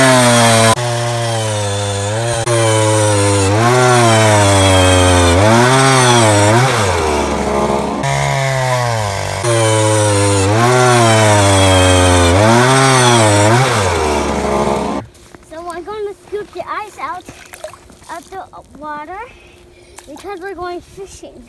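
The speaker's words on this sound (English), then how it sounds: "I'm gonna drill a bunch of holes, kind of in a grid pattern" A gas power auger bores holes through lake ice for crappie fishing, its engine droning loud and steady with rising and falling revs for about fifteen seconds, then cutting out to scattered scraping and rustling.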